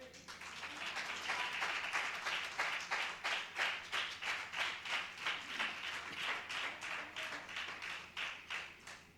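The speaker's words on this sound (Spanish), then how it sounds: "¿Quiere darle un aplauso al Señor?" A church congregation claps together in a steady, even rhythm, the repeated claps carrying on for several seconds at moderate volume with no speech over them.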